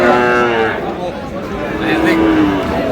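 Cattle at a livestock market give loud, close moos, with bull calves among them, and people talk in the background amid crowd noise.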